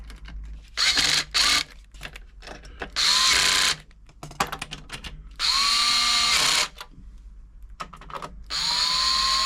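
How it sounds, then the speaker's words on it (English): An electric screwdriver whirs in several short, loud bursts with quiet gaps between them as it tightens screws on a Toyota Model 2640 sewing machine during a service, each burst winding up and then stopping abruptly. "get the electric screwdriver on,"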